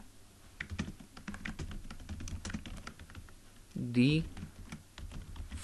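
Rapid typing on a computer keyboard while coding a WordPress theme, close, crisp key clicks in quick irregular bursts, with a man's brief speech partway through.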